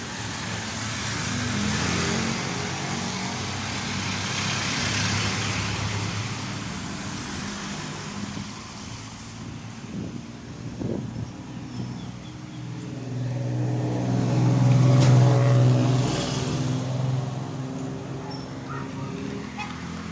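Street traffic heard while walking outside in the morning, with cars passing and engines swelling closer and fading, a steady roadway rumble throughout and a louder vehicle nearby toward the end.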